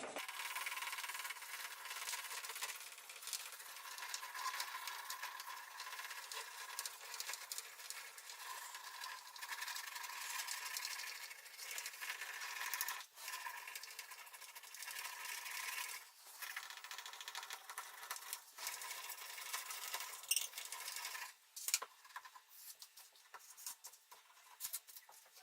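Steady rubbing and scraping of a hand burnishing tool over paper, pressing a Citra Solv solvent image transfer onto the sheet, continuous and close for the whole stretch with brief pauses and a few louder scrapes near the end.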